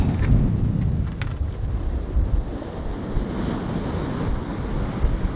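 Big sea waves crash and surge at South Shields Pier under a 26 mph north-northeasterly wind, a steady loud roar of surf mixed with heavy wind buffeting the microphone, without any talking.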